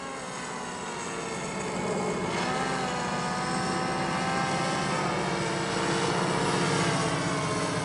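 A HobbyKing SuperG RC autogyro flies and comes in to land, its steady whirring motor and rotor drone continuous and fairly close, holding level throughout with no voices.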